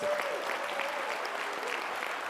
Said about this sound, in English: Can you give Richard a huge round of applause?